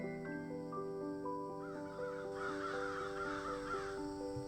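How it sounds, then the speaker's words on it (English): A flock of crows cawing in a recorded track, repeated harsh caws overlapping at a fairly soft, distant level, continuous over several seconds with no talk. "It's a really soft track of the crows there"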